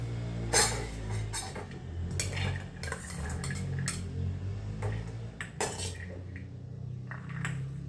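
A spoon stirs and tosses fruit salad with apple, cardamom and nutmeg powder in a bowl, giving repeated clinks and scrapes of metal against the dish in an irregular rhythm, close and clear, with a low background hum and no talking.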